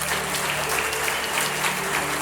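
Steady applause from an audience at a volunteer appreciation day in St-Jacques, honouring the volunteer committee; dense, even clapping sustained throughout without a break.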